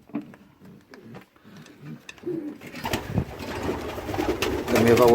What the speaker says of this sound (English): Two really bonny pigeons, and these two have been spoke for as well.